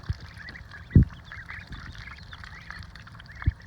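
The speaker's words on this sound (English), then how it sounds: "Man, I love my baby ducks." Baby ducks eat mealworms outdoors on a hot day, making soft, scattered peeping quacks close by. A few low thumps mark the clip, and nobody talks.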